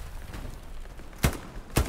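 Two sharp, booming gunshots in the World War II video game Hell Let Loose ring out about half a second apart over a faint background hum.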